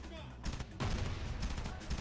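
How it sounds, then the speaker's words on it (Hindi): Gunfire in the PC shooter Frontlines: Fuel of War, a quiet burst of rapid overlapping shots with a heavier blast-like surge partway through, continuing to the end. "ये कुछ ज्यादा गोलियां नहीं चला रहे हैं तुम्हारी?"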